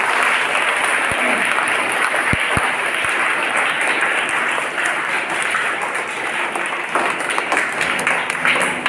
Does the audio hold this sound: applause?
yes